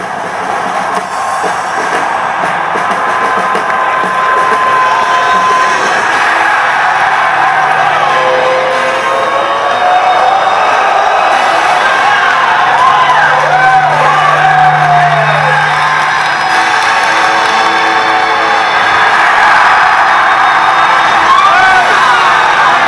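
A football stadium crowd of about 100,000 people yelling and cheering, a dense, sustained roar with whoops and shouts rising through it, loud and continuous throughout.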